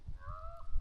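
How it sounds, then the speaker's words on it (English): A raven gives a single short, drawn-out call outdoors on a farm during a freezing snowstorm, fairly close and clear against a quiet, low rumbling background. "Listen to that raven."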